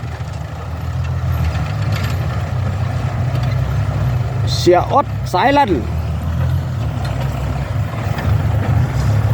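Low, steady engine rumble of a tractor working in a paddy field, running continuously while someone talks over it.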